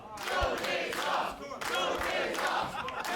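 A wrestling event crowd chants in loud, rhythmic unison, two swelling chant phrases rising and falling across the space, with occasional thumps underneath and no clear talk over it.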